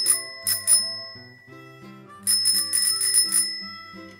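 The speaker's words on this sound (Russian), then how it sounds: "Велосипед." A bicycle bell rings in two short bursts, then a longer run of rapid trills, bright and metallic, close and loud with no other sound.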